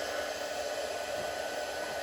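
An embossing heat tool runs steadily, heat-setting embossing powder on a stamped card, giving a close, continuous blowing roar like a hair dryer with no breaks for the whole stretch.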